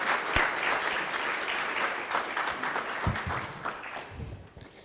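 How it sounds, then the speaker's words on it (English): Audience at the Actuarial Society of Zimbabwe annual convention applauding in a large hall, a dense sustained wash of many hands clapping that gradually thins out toward the end. "May we please clap hands for them as they take their seats."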